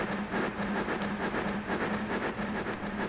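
A train rolls along rails in the video game Transport Fever 2, giving a steady rumbling drone with faint rhythmic clicks of wheels over track joints and no talk.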